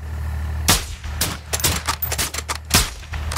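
Gunfire in a squad-based military shooter video game: several sharp, loud shots in an irregular burst, separated by short gaps over a steady low background hum.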